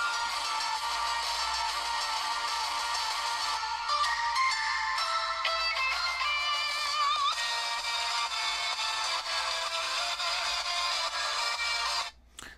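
A ringtone melody plays from the speaker of a UMIDIGI A15T budget smartphone, bright and continuous at an even level for about twelve seconds before cutting off abruptly.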